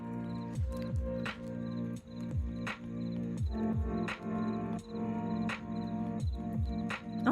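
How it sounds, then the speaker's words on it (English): Cricket chirps run through festive Christmas music, a steady pulsing insect trill mixed with the melody and regular percussive beats, loud and continuous throughout. "But why are there crickets in the music at all?"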